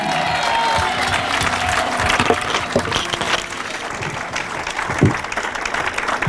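A church congregation bursts into sustained applause and cheering to acclaim God, a dense, loud wash of clapping that holds steady for several seconds with a few voices rising from the crowd.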